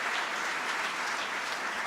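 An audience at Buffalo's State of the City address claps in a dense, continuous burst of applause that holds steady at full strength throughout, with no voices on top.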